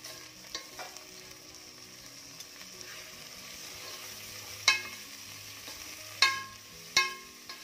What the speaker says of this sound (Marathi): आता टोमॅटो देखील छान परतू देत.